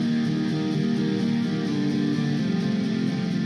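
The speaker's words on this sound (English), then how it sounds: "I also have this distorted guitar sound that PLV sent me." A distorted guitar sound churns continuously as a dense, buzzy, saturated wall of tone with a sustained low note underneath, loud and steady throughout with no voices.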